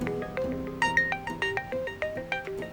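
A phone ringtone plays in an Urdu-dubbed Turkish drama scene, a bright melodic electronic tune of repeating plucked notes in a quick rhythm, clear and fairly close.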